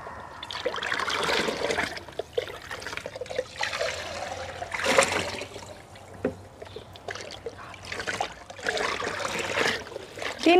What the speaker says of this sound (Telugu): ఈ లిక్విడ్ పోషక ద్రావణాన్ని మనం ఇలా వాటర్లో పోయాలండి.